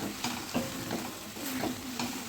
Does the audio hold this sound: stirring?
yes